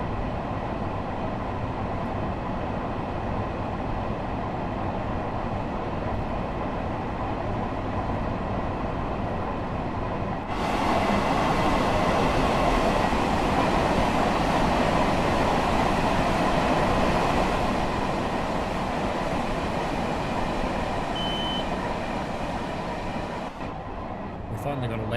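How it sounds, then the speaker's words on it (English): A loud train in a city-building video game rumbles steadily past for a long stretch, swelling to a broad roar midway and fading near the end, with no voices over it. "Finally got a loud train in the game,"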